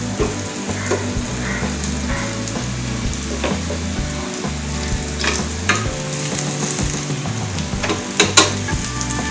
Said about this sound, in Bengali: এভাবে ডিপ ফ্রাই করছি।